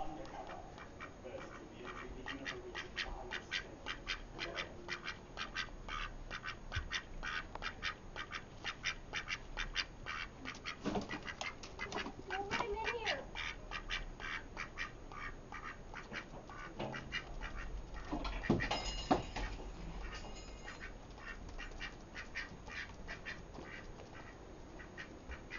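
A duck quacks and squawks repeatedly through a steady background of clicking noise, with one louder burst of calls near the end.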